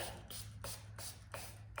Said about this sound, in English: these spray bottles are very thin mist coming out